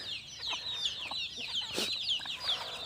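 Free-range backyard chickens, both small and large, cluck repeatedly at morning feeding time after overnight rain, a busy chorus of short close clucks and chirps over faint background noise.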